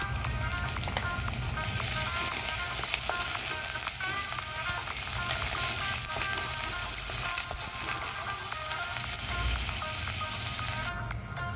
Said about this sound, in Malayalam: ചെറുതായി അരിഞ്ഞ പച്ചമുളകും ഇഞ്ചിയും വെളുത്തുള്ളിയും കറിവേപ്പിലയും കൂടി ഇട്ട് കൊടുത്ത് നന്നായിട്ടൊന്ന് മൂപ്പിച്ചെടുക്കാം